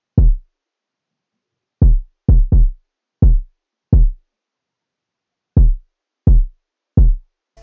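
A phonk-style kick drum pattern plays alone, with deep, punchy booming kicks in a sparse, syncopated rhythm separated by silence.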